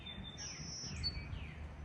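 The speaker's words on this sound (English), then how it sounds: "Birds are singing." Songbirds whistle outdoors under a blue sky at Bass River, New England, with thin high notes that slide and overlap over soft background noise for about two seconds.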